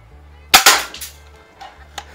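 A Daisy Model 1894 Spittin' Image BB gun fires two sharp, close cracks in quick succession, followed by fainter mechanical clicks and a small knock.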